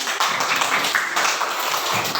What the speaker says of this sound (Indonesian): tepuk tangan untuk Mas Mako